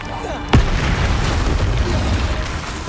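A Bombarda explosion spell in Hogwarts Legacy goes off with one sharp, loud blast, followed by a sustained rumbling roar of combat noise.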